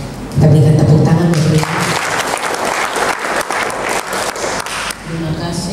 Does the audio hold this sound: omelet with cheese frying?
no